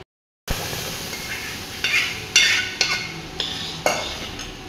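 Wood apple pulp for jelly is scraped from a bowl into a wok, giving a few sharp metallic clinks and scrapes spaced apart over a quiet kitchen background, with no talking.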